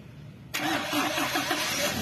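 Dirt bike engine cranking and catching abruptly, then settling into a steady, even idle with a rhythmic mid-pitched pulse, heard up close with no talking.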